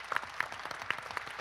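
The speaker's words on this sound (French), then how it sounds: "Pierre Cartier, merci de l'applaudir" Audience at the Réseau Initiative Sarthe general assembly applauds Pierre Cartier, a fairly quiet, scattered patter of claps with a few sharper individual hand strikes standing out.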